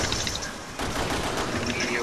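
Rapid bursts of gunfire from the video game Resident Evil 6, loud and dense, crackling continuously over about two seconds with a brief dip partway through.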